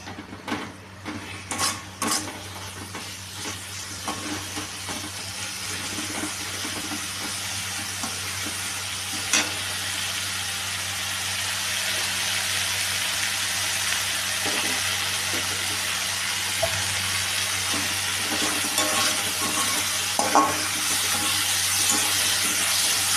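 Egg chow mein being stirred and fried in a pan makes a continuous low sizzle. Scattered scrapes and clinks come through, busier near the start, and nobody speaks.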